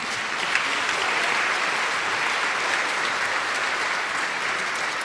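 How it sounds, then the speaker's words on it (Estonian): Audience applauding a boys' choir at its 20th anniversary celebration, steady dense clapping throughout at an even level, no voices over it. "Suur aplaus teile, võite teha endale."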